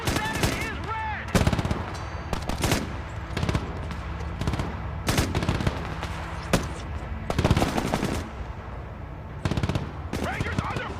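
Bursts of gunfire and machine-gun rattles in the Broken Arrow military video game, sharp repeated cracks and rapid strings of shots fairly close, with shouted voices mixed in amid a steady battle din.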